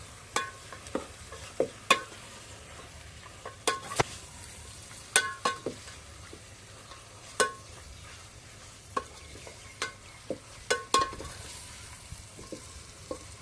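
Turmeric- and salt-coated mutton is stirred in a pot over a wood-fired stove, with a low sizzle under frequent sharp clinks and scrapes of a metal spoon against the pot.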